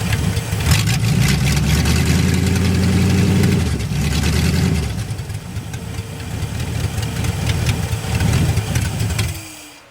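A 1964 Chevrolet Impala engine idles with its choke disconnected, a steady, close, loud rumble with a slightly uneven pulse that softens midway, then settles back before cutting off abruptly.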